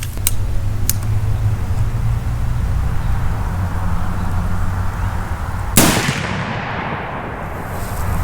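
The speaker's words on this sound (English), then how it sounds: "we're going to get this thing loaded up here real quick and make our first 2 initial shots" Rifle shots at a range during a pre-season rifle check with a new scope: steady ambient noise broken by a couple of faint early cracks, then one sharp, loud shot about two-thirds through that rings out and decays.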